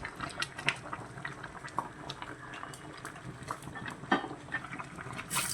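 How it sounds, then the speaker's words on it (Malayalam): A pan of para fish curry simmers at a steady boil, with a continuous soft bubbling and popping close by. No one speaks. "നല്ലതുപോലെ വെന്ത് തിളച്ച് വന്നിട്ടുണ്ട്"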